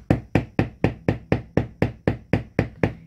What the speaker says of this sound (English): but I'm just gonna hammer it.